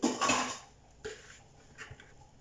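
A salad bowl being swapped for a bigger one while making chicken pizza dough clatters on a kitchen counter: a bright clink of bowl or utensils, then a few softer knocks and taps spaced apart.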